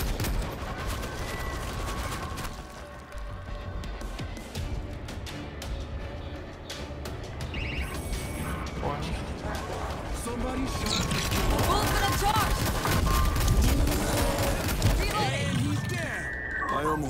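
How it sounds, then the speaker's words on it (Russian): Turrets in World War Z fire continuously, with dense gunfire and impacts running throughout at steady loudness, mixed with game noise and voices talking. "А чё, это турели по нам, что ли, стреляют?"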